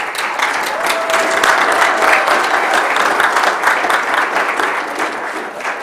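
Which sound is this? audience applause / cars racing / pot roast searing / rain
audience applause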